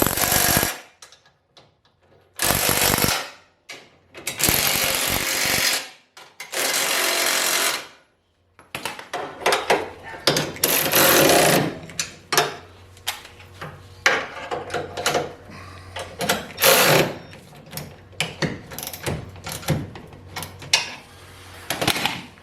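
Power tool tightens bolts on a compact car rotisserie in loud, separate bursts of harsh rattling impacts with short quiet gaps between, then a busier run of clattering and knocks, close by.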